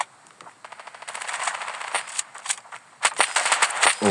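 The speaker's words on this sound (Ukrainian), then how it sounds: "почали стріляти по мені" Rapid bursts of gunfire in a multiplayer shooter game, sharp repeated shots in quick clusters that grow louder and denser toward the end.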